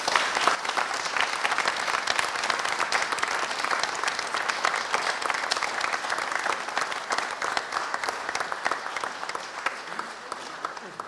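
Sustained, even applause from the main committee at a commemorative session of the Slovenian veterans' association marking 25 years of independence, with many hands clapping steadily in a large hall and fading slightly toward the end.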